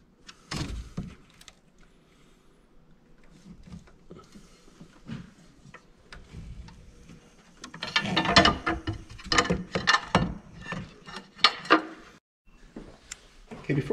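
A ratchet wrench slowly turns the crankshaft of a VW TDI 1.9 ALH diesel engine by hand through two rotations, close by: quiet, sparse clicking at first, then louder bursts of dense metallic ratcheting with short pauses between strokes.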